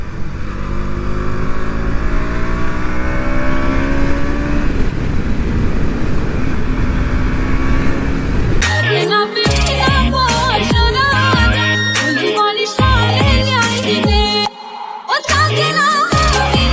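A KTM Duke 200 motorcycle cruises along a national highway, its engine a loud, steady drone under heavy wind rush, then music joins partway through and plays over the ride, with no talk.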